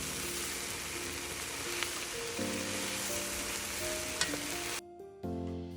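Rinsed wild rice hits a hot pan for vegan tacos, setting off a steady, bright sizzle and crackle that fills the space, then briefly drops away near the end before resuming.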